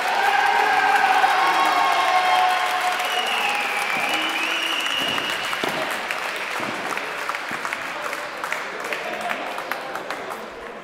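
Spectators at an FFT Padel Tour women's doubles match in Perpignan give sustained applause as the match ends. The dense clapping is loud at first and slowly thins out, with a commentator's voice faintly underneath.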